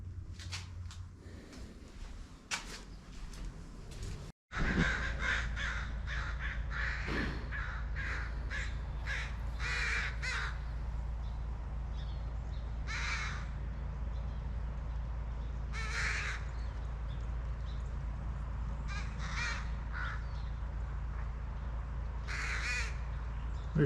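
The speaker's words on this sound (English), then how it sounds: "those crows are trying to get him out of there." Crows caw repeatedly at some distance, in scattered bursts of harsh calls over a quiet outdoor hum, on a farm while harassing a hawk.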